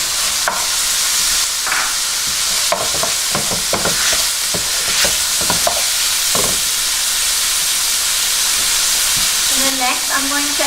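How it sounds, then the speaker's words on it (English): Ground beef and garlic frying in a pan, a steady loud sizzle with repeated scraping and stirring clicks from a utensil, continuing throughout with a few small knocks near the end. "After breaking the ground beef here, I'm going to add in the rest of my garlic that I had earlier"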